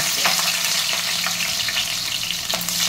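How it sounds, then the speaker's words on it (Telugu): Green chillies fry in hot oil for a fish curry, giving a steady, close, loud sizzle and crackle that runs unbroken with no voices. "ఆయిల్ వేడైనాక పచ్చిమిర్చి వేయాలి"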